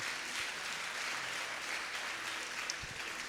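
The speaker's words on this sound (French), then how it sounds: "nous applaudissons grande chorale s'il vous plaît" An audience applauds a grand choir at an evangelical concert in a Baptist church: a steady, even wash of clapping, fairly faint and distant, with no talk over it.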